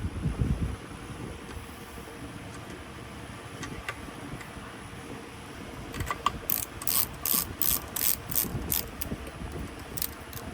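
A ratchet wrench clicks as it tightens a screw on an HPI Baja 5B RC car, with quiet scattered clicks at first and then a rapid run of close, crisp pawl clicks in bursts.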